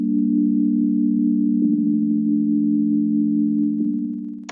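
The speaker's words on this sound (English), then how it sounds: "And then I just added this pad on top of it from the same kit." Simple synth pad holds smooth, sustained chords with a soft tonal glide partway through, mellow and steady with no other sounds.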